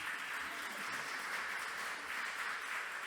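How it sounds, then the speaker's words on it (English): Audience applause following the introduction of a presentation on the single-use plastic ban and bioplastic solutions, a steady dense wash of clapping that fills the whole moment at moderate level with no talk over it. "Thank you for this applause."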